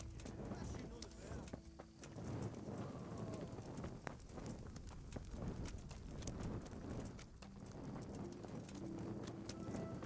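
Horse hooves clip-clop in a video game, a rapid, uneven patter of sharp knocks running throughout, with voices and game sounds mixed in around them.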